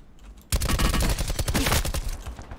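Dense gunfire in a squad battle-royale shooter game, a sustained close fusillade of rapid shots that bursts in suddenly and keeps rattling loudly for a couple of seconds with no talk over it.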